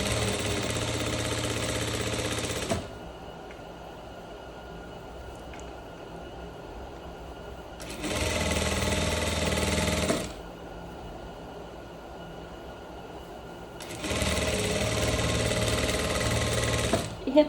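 A sewing machine stitches pleated trousers in three loud, steady bursts of rapid mechanical whirring, separated by quiet pauses with faint handling.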